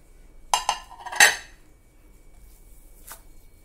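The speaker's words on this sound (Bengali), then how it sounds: "এবার ঢাকা খুলে দেখছি।" Metal lid lifted off a cooking pot while making ribbon pakora, giving two quick clanks, a louder clatter, then a faint clink, close and alone with no talk.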